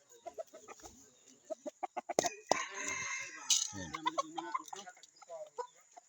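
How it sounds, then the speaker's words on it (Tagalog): Chickens being fed cluck and chatter nearby in short bursts, with a louder squawking flurry in the middle and a few birds calling over one another. "Papakain muna ako ng mga manok."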